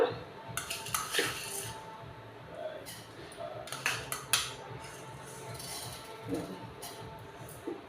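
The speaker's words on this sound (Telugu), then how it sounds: "ఇప్పుడు ధనియాలు ఈ స్పూన్తో తీసుకుంటున్నాను" Light metal spoon clinks and scrapes while coriander seeds are scooped from a container, several small taps and clinks spread through a quiet kitchen, close and soft, with faint background noise.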